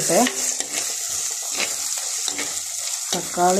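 Onions and tomato stirred in a frying pan for chicken roast, a steady bright sizzle with scraping stir strokes, plus a short voice-like tone at the start and again near the end.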